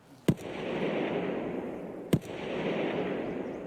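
Two sharp gunshots roughly two seconds apart ring out in Escape From Tarkov, each a distinct crack over a steady rumbling background, with no voices.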